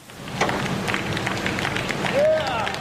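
A crowd claps and cheers outdoors as the colonial statue of John Hamilton is carted away: steady, dense applause with murmuring voices and a brief rising whistle near the end.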